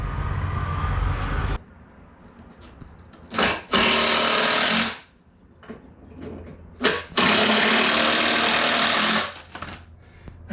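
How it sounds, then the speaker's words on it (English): A power driver sinks large screws into deck boards outdoors, heard as two long, loud whirring bursts separated by shorter stops and brief starts, with a low rumble at the start and no talk. "why are you screwing a deck? Why don't you just nail it?"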